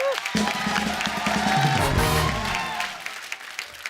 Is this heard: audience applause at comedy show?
yes